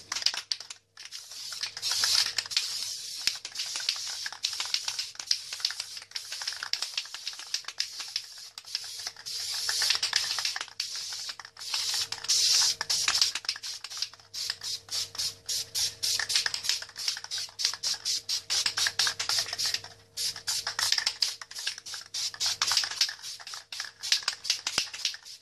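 A spray paint can hisses in repeated short bursts over an Xbox 360 shell, the close, fairly quiet sprays broken by brief pauses and faint handling noises.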